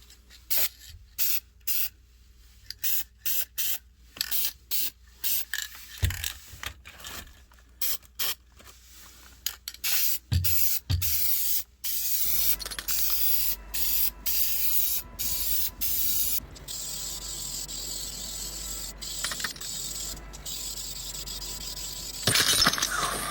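Duplicolor matte black vinyl dye sprayed from an aerosol can onto a BMW E30 interior, heard as many short hissing bursts, sometimes rapid, then longer sustained sprays, close to the microphone.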